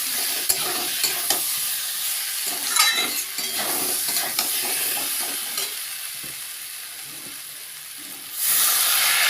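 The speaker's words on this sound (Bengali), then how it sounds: "এবার আমি অল্প অল্প করে জল দেবো।" Steady sizzling and frying of a prawn, papaya and potato curry in the pan, with stirring scrapes and hissing steam bursts, ending in a louder surge of sizzle as water is added bit by bit.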